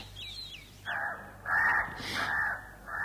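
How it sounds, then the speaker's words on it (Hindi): A crow caws several times in harsh, rough calls, moderately near against a quiet background, with a faint higher bird chirp at the start. "पास के लंबे खजूर के पेड़ से उड़कर एक कौवा"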